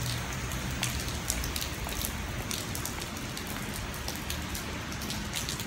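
Rain falls steadily on a rainy day, a dense, even hiss of drops with occasional sharper patters, continuous and moderately close with no voices.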